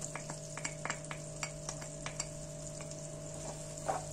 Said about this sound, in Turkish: Sarımsakları biraz kavuruyorum.